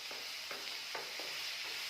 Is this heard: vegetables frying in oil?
yes